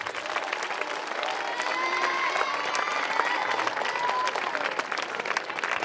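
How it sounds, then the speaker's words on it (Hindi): Sustained applause from a large crowd at a Navodaya Vidyalaya school alumni meet in Mandsaur, dense and steady clapping filling the room throughout, with some voices mixed in. "एक बार और जोरदार तालियां हो जाए।"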